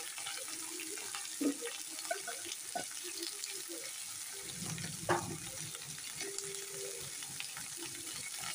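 Thick Malabar spinach stalks fry in a pan with green chillies for a Bengali shak ghonto, giving a soft, steady crackle with a few brief clinks and stirring scrapes close by.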